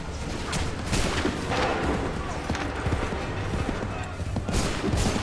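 Musket volleys crackle in Assassin's Creed 3, dense overlapping gunfire bursts across a busy, loud battle soundscape with shouted voices mixed in.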